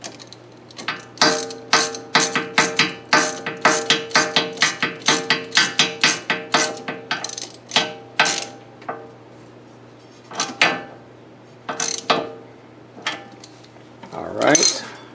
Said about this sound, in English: And I'm just going to snug that down with the regular hand tool as well.